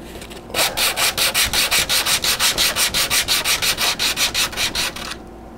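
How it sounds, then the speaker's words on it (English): Sanding down a model airplane fairing to a tape edge, heard as steady rhythmic back-and-forth rasping strokes, close and loud, roughly four per second, stopping abruptly at the end. "You'll stop when you grind down to the edge of the tape."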